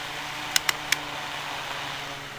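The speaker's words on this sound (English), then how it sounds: "this little fan sure moves a lot of air" A small electric heater fan runs steadily with an even, close whooshing hum and a faint high whine, interrupted by three quick sharp clicks near the start, with no voices.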